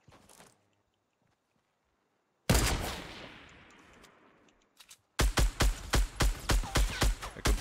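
Assault rifle gunfire in Fortnite, a single crack and decaying echo, then a quick burst of about ten sharp, evenly spaced automatic shots, loud and close.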